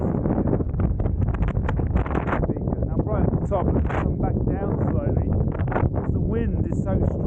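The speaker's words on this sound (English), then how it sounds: "wind is so strong at the top" Strong wind at the top of Mount Bugarach buffets the microphone with steady, loud rumbling while a person talks close by throughout.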